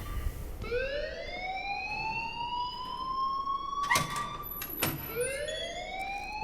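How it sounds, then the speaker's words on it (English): Alarm from the Life is Strange video game: a rising, wailing siren tone that sweeps up and holds, repeating in cycles with a couple of sharp clicks partway through, loud and steady over a faint background hum. "please turn off that alarm since that's your job"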